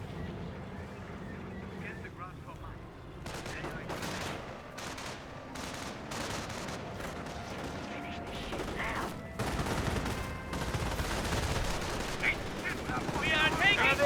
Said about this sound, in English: The riflemen here are getting shredded by these STGs.